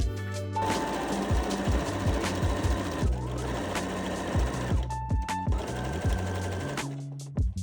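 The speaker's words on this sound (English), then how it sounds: "Top stitch on the right side of the fabric, close to the bottom of the vest." A sewing machine top-stitches along the bottom edge of a fabric tie-front vest, running in a fast, rhythmic mechanical whir with a short pause midway and stopping near the end.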